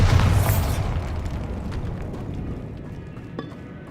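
A Bombarda spell explodes in Hogwarts Legacy, a loud booming blast at the start that rolls into a long, fading rumble with faint debris clatter trailing off.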